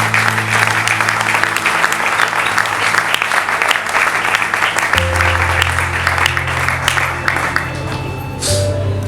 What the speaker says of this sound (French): Est-ce que nous ne pouvons pas applaudir le Seigneur?